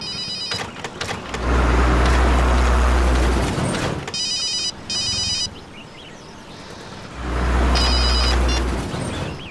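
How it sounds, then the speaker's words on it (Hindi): A mobile phone rings with an incoming call from a mother, short bursts of electronic trilling repeating a few times amid loud traffic and engine noise nearby. "ओ नो, मॉम का ही फोन है।"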